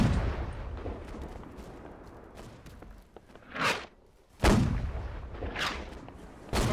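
Naval cannons firing in Holdfast: Nations At War, several heavy booms spaced a second or so apart over a low rumbling battle din, the loudest blasts near the middle.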